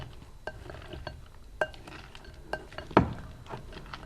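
Peanut salad with olive oil and salt being mixed in a bowl, with light clinks and taps of a utensil against the dish at an uneven rhythm and one sharper knock, close and moderately quiet.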